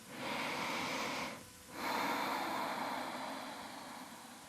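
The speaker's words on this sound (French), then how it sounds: "Et on prend le temps de respirer dans cette position." Slow, steady breathing during a yoga breathing exercise, a long airy exhale broken by a brief pause, then another full breath, close and soft with no talking.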